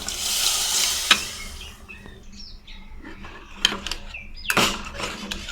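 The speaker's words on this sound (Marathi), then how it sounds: "चांगलं परतून घेऊया।" Toor dal with spice paste fries in a pan for a spicy Malvani dal, a soft sizzle with sharp clinks and stirring scrapes, while birds chirp faintly in the background.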